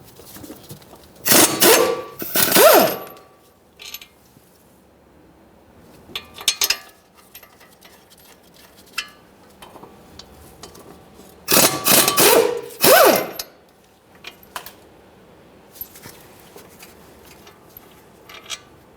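18mm caliper bracket mounting bolts come out of a Ford Fusion front brake assembly, heard as two loud bursts of rapid impact-gun rattling with scattered metallic clinks and quiet handling noises between them.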